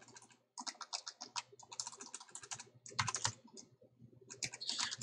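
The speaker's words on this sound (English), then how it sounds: "This is the Golem keyboard that I have reviewed, and I'm wearing it out." A quiet Golem computer keyboard is typed on in quick, irregular bursts of soft clicking keystrokes, with short pauses between runs, close and alone without speech.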